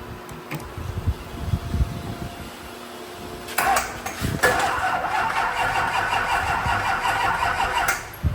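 A Duramax diesel drag truck engine cranks and catches, then settles into a loud, steady, rough idle close by. Quieter mechanical clatter and rustling come first, and no one speaks.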